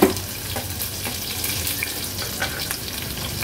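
Crushed garlic cloves and green chillies fry in hot oil with a bright, continuous sizzle and spatter, close by, with occasional stirring sounds throughout.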